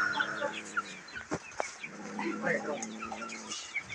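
Chickens clucking nearby in a busy farmyard, with scattered calls and a voice talking softly underneath.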